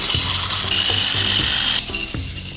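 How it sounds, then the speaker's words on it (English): A food processor whizzes cornflakes into fine crumbs, a loud steady whir and rattle running continuously throughout, with rhythmic clattering pulses as the flakes are tossed against the blade. "We're gonna whiz up some cornflakes."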